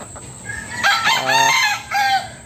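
A rooster crows loudly and close by among chickens, its drawn-out call preceded by a few soft clucks and ending in a final rising note.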